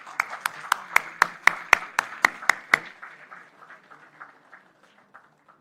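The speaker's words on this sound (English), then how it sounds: "Please give a huge round of applause to our guest of honor." Applause from an audience at a university convocation ceremony honoring a guest of honor, starting as about ten sharp, evenly spaced claps and then thinning into a scattered patter that fades out.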